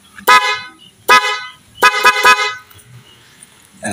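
Horn on a Honda Click 125 scooter honked in short blasts: two single toots, then a quick burst of three close together, loud and near in a quiet setting.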